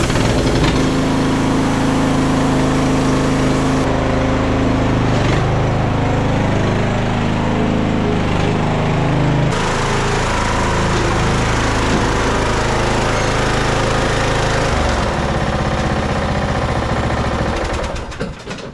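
A lawn mower engine in a small engine repair shop runs loud and close for the whole stretch, a steady droning, rattly idle with slight shifts in pitch and roughness.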